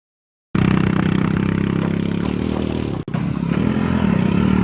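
A Hero Splendor Plus motorcycle engine running steadily up close while riding, a continuous throbbing drone with a brief dip partway through.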